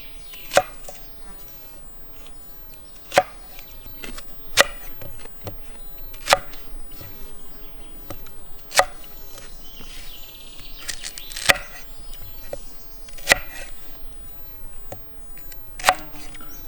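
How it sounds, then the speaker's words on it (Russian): A knife chops an onion into quarters on a cutting board, giving sharp, evenly spaced knocks about every two seconds over a quiet kitchen background, with no talking. "Лук разрежем на 4 части."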